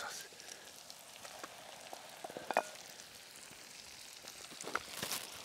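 Liver sizzles faintly in a very hot pot with onion and bacon over a strong flame, a soft crackling hiss with a few sharper pops and spits, quiet and steady.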